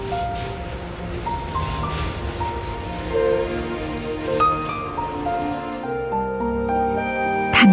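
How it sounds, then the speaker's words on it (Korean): A coal freight train on the Gyeongjeon Line in South Korea rolls along with a steady rumble and shifting metallic tones from the wheels, fairly close and continuous. "석탄을 실어 나르는 화물 열차도 그중 하나입니다."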